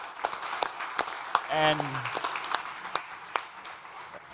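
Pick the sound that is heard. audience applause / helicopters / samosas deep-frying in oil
audience applause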